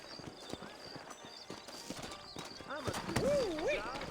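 Horse hooves clop unevenly in the background while someone talks, and a horse whinnies near the end, in the video game Red Dead Redemption.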